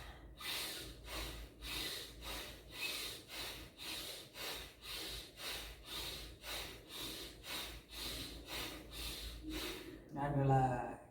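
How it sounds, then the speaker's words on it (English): Rapid forceful nasal breaths pump in and out in an even rhythm during yoga breathing rounds, about a dozen strong strokes close to the microphone, with a voice audible toward the end. "Breathe in, breathe out, breathe in, breathe out, breathe in, breathe out."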